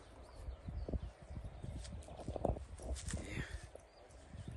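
Horse hooves clip-clopping on the ground as a mare is tied up for breeding, irregular close thuds and scuffs with faint shuffling, while people talk quietly in the background.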